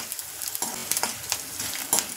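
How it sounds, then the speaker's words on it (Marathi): Edible gum (dink) fries in hot oil for methi laddu, giving a soft sizzle. Scattered clicks and brief stirring scrapes come at irregular moments, fairly quiet and close, with no talking. "तर हा बघा असं तळून घ्यायचा."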